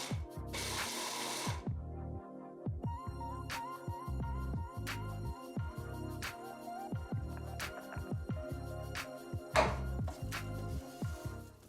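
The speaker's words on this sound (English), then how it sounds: "I prepare the walnuts and hazelnuts finely in the mixer" A kitchen mixer grinds walnuts and hazelnuts in loud, rattling bursts, the motor starting and stopping repeatedly with brief pauses and clattering nuts throughout.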